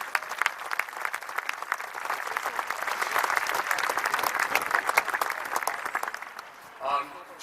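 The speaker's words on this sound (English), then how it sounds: "So let's give them a round of applause." An audience at an event at the Presidio of San Francisco gives a full round of applause, dense and steady for about six seconds before fading out, with a brief voice at the end.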